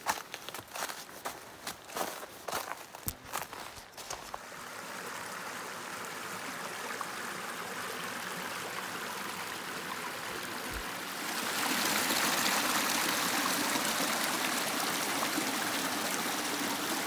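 A mountain stream runs steadily beside a hiking trail, a continuous rushing wash that grows louder partway through as the water comes closer. Footsteps crunch on the trail at the start.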